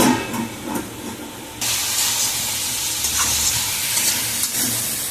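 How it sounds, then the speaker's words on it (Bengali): Pumpkin leaf greens with a little water simmering under a lid, starting with softer bubbling before a louder, steady steamy hiss takes over, close by and without voices. "এবার আমি ঢাকা দিয়ে দেবো, ভালো করে একটু সেদ্ধ হোক"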